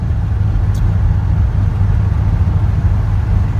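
An LSX-swapped GMC Canyon truck on a road test, running on wastegate spring pressure with the boost controller off: a steady, loud low engine drone with a rumbling cabin hum and no speech.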